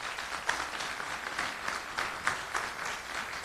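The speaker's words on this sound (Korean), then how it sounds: "큰 박수로 맞이해 주시기 바랍니다" Audience applause welcomes former party emergency committee chair Kim Byong-joon to a special lecture at a People Power Party lawmakers' workshop. A steady, dense clapping from a large room carries on throughout, with a few sharper claps standing out.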